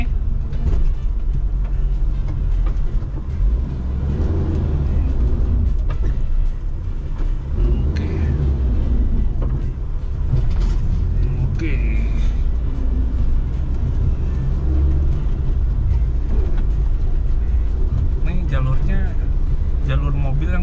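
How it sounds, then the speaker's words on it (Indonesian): A 4x4 off-road car crawls along an overgrown trail under engine braking, giving a loud, close, continuous low rumble with occasional knocks and rattles, and a voice is heard at times over it. "kita rasain engine brake-nya yang mana pastinya tetap ngeloyor"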